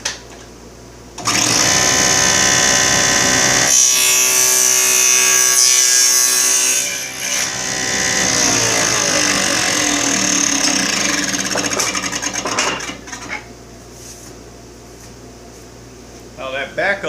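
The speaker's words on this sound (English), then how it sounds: "Turn on the dust collector." A dust collector runs steadily while a saw cuts through plywood backed by a backup board, building a fixture for finger joints. The loud, continuous machine roar holds for most of the clip, with shifting cutting tones and a brief dip partway through.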